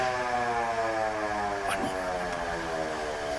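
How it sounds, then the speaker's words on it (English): The old siren at the historic St. Vital fire hall sounds a steady, loud, sustained wail close by, filling the room. "the siren still works too, folks."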